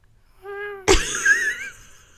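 A human voice imitates a small cat: a short, thin, pitched meow, then a breathy burst and a rising squeaky glide, all close and quiet.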